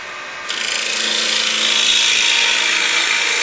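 A wood lathe turns a bowl from a log, the gouge riding the bevel down toward the bottom in a steady, loud, continuous hiss and rasp of cutting wood that grows fuller after a brief softer start.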